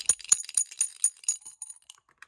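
Plastic checkers clatter on an all-plastic backgammon board in a quick run of sharp, light clicks that thin out and fade.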